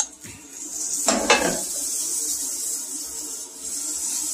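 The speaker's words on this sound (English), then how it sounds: "I'm going to add a little bit of butter to the hash browns" Butter going into hash browns in a hot pan, with a couple of sharp metallic clinks of a utensil against the pan followed by a steady, close sizzle.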